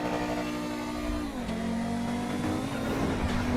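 A $2 million car engine at full throttle, revving hard and loud up close. A deep, rising roar dips briefly at a shift, then climbs again, and no voices are heard.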